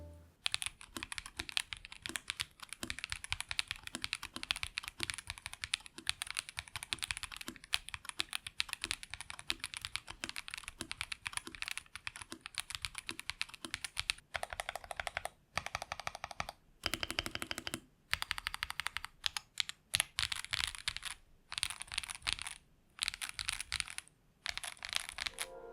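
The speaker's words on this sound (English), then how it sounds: "Here's what a Lego keyboard sounds like." Rapid clacky keystrokes on a LEGO-built KBDcraft Adam mechanical keyboard, steady typing bursts with brief pauses between runs, close and crisp with no speech.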